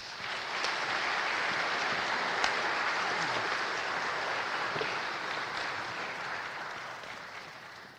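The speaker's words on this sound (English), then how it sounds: "Another round of applause, guys." Sustained round of applause from an audience at a hockey number retirement and Hall of Fame ceremony, steady and fairly loud for the whole stretch, slowly tapering toward the end.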